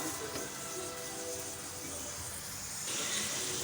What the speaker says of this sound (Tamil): கடலை மாவு வந்து நல்லா இந்த மாதிரி வறுபட்டு நல்லா அந்த எண்ணெயில் நுரைச்சி வருது